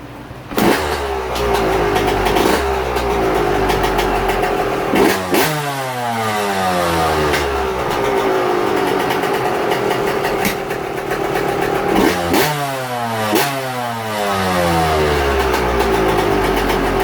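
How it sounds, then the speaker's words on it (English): A Yamaha YZ125 two-stroke motorcycle engine with a freshly rebuilt top end and new piston idles and revs up sharply several times, each rev falling back in descending sweeps, loud and close with no talking. "I'm gonna rev her out one good time, make sure the power valve's fully opening up"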